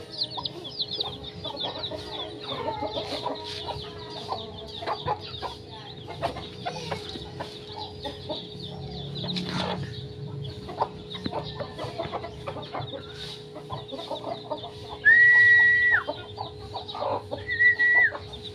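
Native chickens with a brood of six healthy chicks cluck steadily at close range, soft overlapping calls and peeps, with a couple of louder, sustained bird calls near the end; no one speaks.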